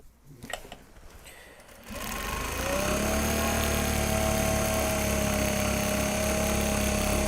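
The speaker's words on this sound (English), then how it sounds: "Sewing." A sewing machine stitches Japanese fabric for a tote bag, starting after a few soft handling taps and then running as a steady, close mechanical whir with a rising tone that holds to the end.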